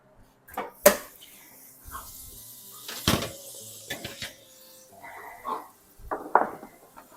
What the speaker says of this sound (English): Now I'm gonna pull these fries out of the oven and just flip them